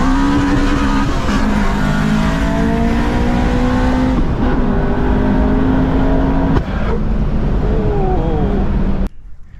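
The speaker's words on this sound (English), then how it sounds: "there was a loud backfire, and it was like super loud" Nitrous-fed K20 Acura RSX Type S racing hard, a loud, continuous engine roar climbing through revs with a sharp bang near the end before it cuts off abruptly.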